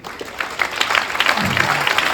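An audience at the GOSO Gala 2025 applauds MC Sade with scattered claps that build into steady clapping, and a faint low voice murmurs underneath.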